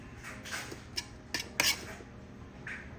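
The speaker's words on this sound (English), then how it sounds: "I am stirring all the way down to the bottom, bringing it up" A spoon stirs cooked brown rice down to the bottom of a pot, giving soft scraping scuffs with a few sharper clinks of metal against the pot, close and fairly quiet, with no talk.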